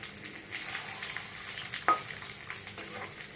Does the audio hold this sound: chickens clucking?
no